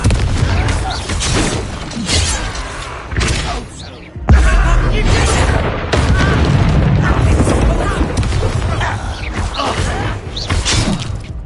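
Confringo explosive spell blasts in Hogwarts Legacy, heavy booms and crashing impacts in a loud, continuous combat mix, with a voice shouting spell names over the noise.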